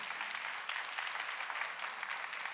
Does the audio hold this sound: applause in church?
yes